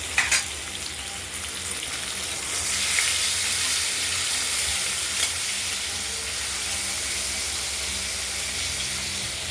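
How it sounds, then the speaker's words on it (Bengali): Potatoes frying in oil in a pan for a katla fish curry. A loud, close, continuous hiss and crackle holds steady throughout with no talking. "আলুগুলো ভালো করে ভাজা করবো।"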